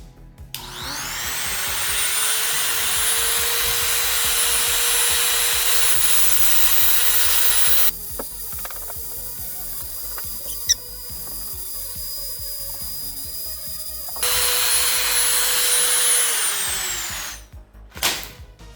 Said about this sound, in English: we have a Dremel. Let's see what it can do with a stone bit.